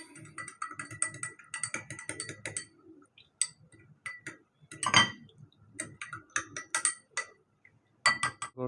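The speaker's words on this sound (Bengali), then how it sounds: "এবার নেড়ে নেব।" A spoon stirs aparajita flower tea with lemon juice in a glass cup, making quick, bright clinks and taps in irregular clusters. A louder knock comes midway, with short pauses between the bursts.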